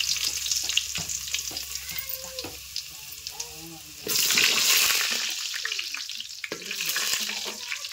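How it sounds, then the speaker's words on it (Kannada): Garlic sizzles and crackles loudly in hot oil in a pan, with a spoon stirring and scraping, and a louder hiss surges midway as more goes in; no one speaks. "ಈಗ ಬೆಳ್ಳುಳ್ಳಿ ಬೆಳ್ಳುಳ್ಳಿ ಫ್ರೈ ಆಗ್ಯಾವ್ರಿ"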